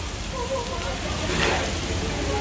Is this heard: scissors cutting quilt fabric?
no